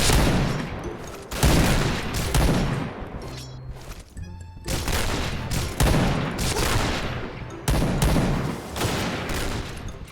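Gunfire from an SVU rifle in the shooter game Point Blank: loud, close shots in repeated bursts, separated by brief pauses and a short lull in the middle.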